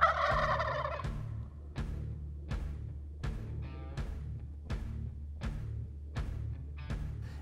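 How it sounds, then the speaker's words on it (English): Group of four wild turkey toms gobbling outdoors, one long loud gobble at first, followed by a steady series of sharp clucks or putts repeating roughly once per second. "it wasn't long before we had a group of gobblers coming our way"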